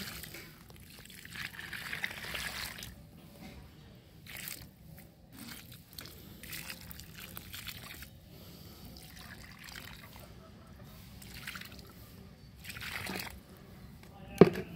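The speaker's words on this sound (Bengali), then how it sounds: "এরপর আমরা এর গাছের গোড়ায় জল দিয়ে নেব।" Water is poured onto the base of a plant in a rooftop garden, a soft trickling and splashing that comes and goes over soil under steady background noise, ending with a sharp knock.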